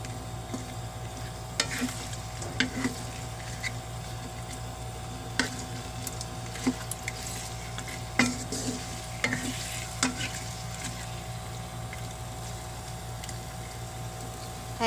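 Garlic butter shrimp frying in a pan over raised heat, with a steady sizzle and intermittent scraping stirs of a utensil at a moderate distance, no voices.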